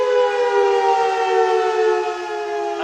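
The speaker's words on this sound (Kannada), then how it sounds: "ಸೈರನ್ ಸೌಂಡ್ ನಿಮ್ಗೆ ಕೇಳಿಸ್ತಾ ಇದೆ ನೋಡಿ." A civil defense mock drill siren wails steadily outside the DGP headquarters in Halasuru, Bengaluru, a loud sustained rising tone heard alone without any talking.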